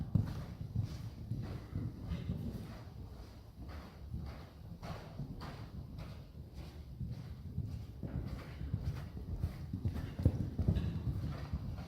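Horse hooves clip-clop steadily on arena footing as a rider works the horse through an exercise in a small arena. The footfalls are even, mid-distance and continuous for about twelve seconds, with no talk over them.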